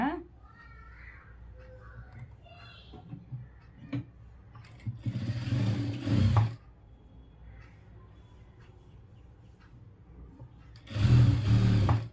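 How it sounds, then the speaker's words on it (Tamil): A sewing machine stitching along the edge of a sleeve joint runs in two loud mechanical bursts, one mid-way and one near the end, separated by quiet handling and soft background sounds. "இப்போ வந்துட்டு இந்த எஜ்ஜிலே வந்து தையல் போட்டுட்டு வரலாம்"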